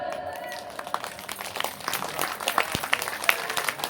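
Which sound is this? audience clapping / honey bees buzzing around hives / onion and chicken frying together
audience clapping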